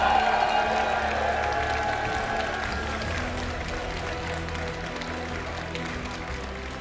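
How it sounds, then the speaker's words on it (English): A large crowd at the Pokémon GO Regional Championships in Lille applauds and cheers continuously, a dense wash of clapping with scattered voices that slowly tapers off. "I know we're already applauding"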